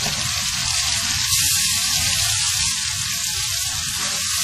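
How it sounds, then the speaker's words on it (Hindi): Steady, busy sizzling of ground ginger and garlic frying in hot oil in a karahi, loud and close, with a constant crackle and no talking. "करीब 1 मिनट हमने इसको फ्राई किया।"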